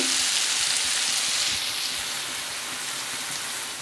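Spice paste for a Bengali tangra fish curry sizzles steadily in a hot pan, making a close, continuous, rain-like hiss without pauses.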